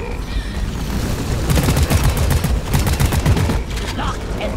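Sentry gun firing in the video game Deep Rock Galactic, a loud, dense stream of rapid automatic shots that builds and continues without pause, with heavy chattering bursts throughout.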